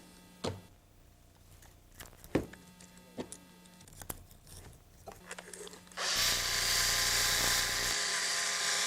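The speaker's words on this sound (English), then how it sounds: "Get our cylinder hone here." A drill-driven cylinder hone works inside a brake cylinder during a brake overhaul. A few sharp knocks and clanks come first, then a loud, close, steady high whir runs for the last few seconds.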